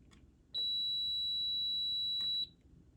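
Multimeter continuity tester on a Krank amplifier circuit gives one clear, steady high-pitched beep lasting about two seconds, close and alone, with light clicks of the probes before and after.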